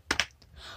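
Two quick keystrokes clack on a new RGB gaming keyboard, close and crisp, followed by a soft faint rustle, with no talking.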